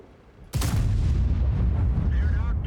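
A tank gun firing in World of Tanks, one sudden loud boom that rolls out into a long, low rumbling tail, with faint mechanical whirring afterward.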